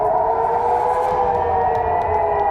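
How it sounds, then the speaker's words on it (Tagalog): An air raid siren in the Middle East warns of incoming bombs, a loud, steady wailing tone holding close and alone for the whole stretch. "lalo na kapag umalingaw-ngaw na ang sirena"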